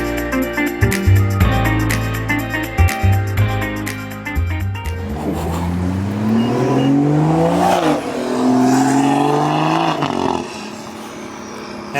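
A 2023 BMW 340 engine revs loudly up close, its roar rising and falling in sweeping pulls after a few sharp blips.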